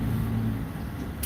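Road traffic with a car engine humming steadily close by, a low continuous drone filling the short stretch without speech.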